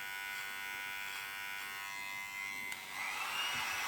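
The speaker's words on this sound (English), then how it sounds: "but it definitely trims." Electric pet hair trimmer from a 2-in-1 vacuum groomer runs with the suction off, giving a steady close buzz that rises in pitch near the end as the motor loads or shifts.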